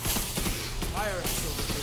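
Gunfire in the video game Earthfall, a dense burst of rapid shots under a loud game soundscape with a voice shouting over it, all packed into under two seconds.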